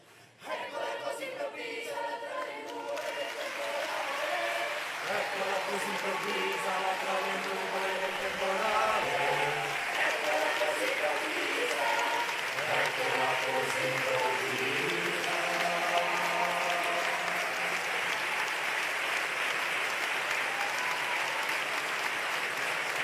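A large crowd applauds the Pope as he leaves the great hall of a university, sustained and dense clapping that carries on for over twenty seconds, with faint voices and chanting in the mix.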